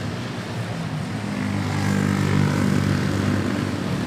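A Cathay Pacific Boeing 777 airliner at Manila Airport gives a steady jet-engine roar that swells midway and then eases slightly, fairly loud and without voices.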